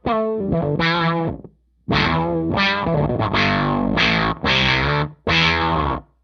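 An electric guitar runs through a fuzz pedal into a filter effect, playing several distorted chords and phrases in bursts separated by short pauses, loud and close with no talking.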